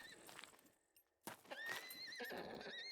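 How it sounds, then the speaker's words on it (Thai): A horse in the video game SCUM, somewhere in a village, lets out one clear, fairly close whinny after a short lull, with the game's ambient sound running around it. "ตอนนี้เราก็ได้ยินเสียงม้าอีกแล้ว แต่ไม่รู้ว่าม้าอยู่ตรงไหน"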